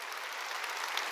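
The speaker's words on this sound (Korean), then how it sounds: "박수로 하나님께 영광 돌려" A church congregation applauds together, a steady dense wash of many hands clapping without pause, fairly soft and even throughout the short stretch.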